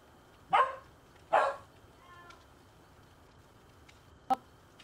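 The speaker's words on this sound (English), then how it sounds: "They don't want to hear you bark." A dog gives two sharp barks close by, followed after a pause by a single shorter bark, over a faint hiss of indoor background.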